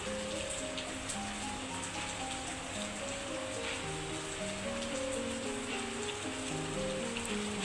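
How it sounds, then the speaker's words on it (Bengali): Steady rain patters on a surface without pause, a soft even hiss with a faint melodic tone running underneath. "এখন আবার দেখি বৃষ্টি পড়তেছে"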